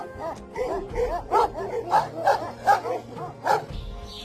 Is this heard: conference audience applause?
no